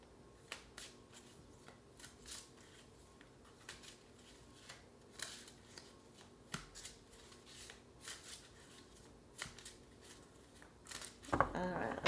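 Tarot oracle cards are shuffled by hand, a soft, close series of riffling flicks and taps at irregular intervals, faint and quiet.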